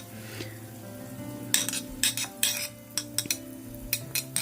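Cubed onions for chilli pork sauté in a pan with a soft sizzle, broken by repeated sharp scrapes and clinks of a spatula against the metal.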